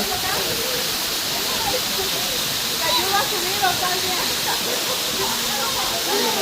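Bonita Falls pours with a loud, constant broadband rush of falling water, close by, while indistinct voices murmur faintly underneath.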